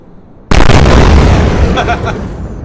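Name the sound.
photon torpedo explosions in a space fighter video game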